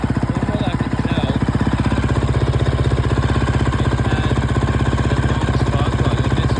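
A 2011 KTM 350 dirt bike, fitted with a corrected spark plug, idles steadily up close with a fast, even engine pulse and constant loudness throughout, no talking over it.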